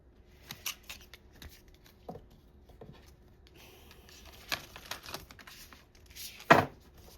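Oracle cards are shuffled by hand in a quiet room: soft, scattered riffles and taps come in irregular bursts, with a sharper flurry near the end, and no one speaks.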